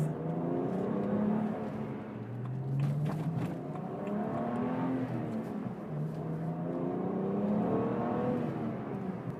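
A 2011 BMW 1M Coupe driving on a smooth, deserted two-lane country road, its engine droning steadily with rising and falling pitch as it shifts through gears, heard from inside the car with constant road noise.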